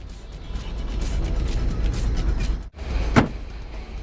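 Car door in the PC driving game Crash Time 2, heard as a solid close thunk and latch after a run of engine and street rumble, followed by a brief sharp click.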